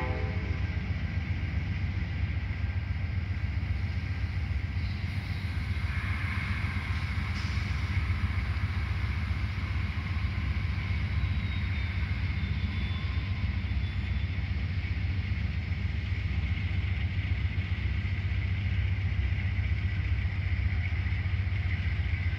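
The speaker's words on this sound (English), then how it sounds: "Right now, we got an Amtrak train leaving Union Depot Station in downtown St." Amtrak train with two engines on the front leaving Union Depot Station in downtown St. Paul, Minnesota, bound for Chicago: a constant heavy diesel drone and rumble holding steady throughout, with a faint high whine partway.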